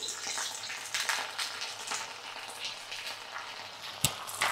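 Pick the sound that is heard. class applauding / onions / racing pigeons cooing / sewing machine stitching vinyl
onions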